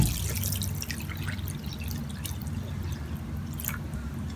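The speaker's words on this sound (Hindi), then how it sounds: "मैं इसमें डालूंगी पानी," Cold water poured into raw minced meat mixed with white vinegar in a bowl, a soft continuous trickle with scattered wet drips and splashes, quiet and close.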